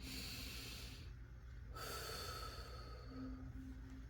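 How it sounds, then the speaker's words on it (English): A single deep breath drawn in and slowly released, close and soft, with a low steady background hum. "On the count of 3, we're going to take our deep breath"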